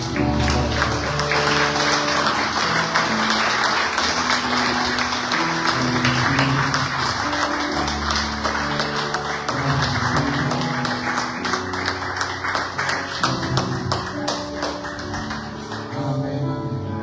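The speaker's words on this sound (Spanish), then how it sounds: "aplauso a Dios." A church congregation claps steadily and continuously during worship, with music playing underneath and the rhythmic clapping running throughout.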